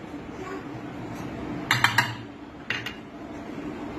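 A spoon clinks against a bowl as milk powder and cornflour are stirred into cold milk for a homemade vanilla ice-cream base, with two quick bursts of clinks over a low background hum.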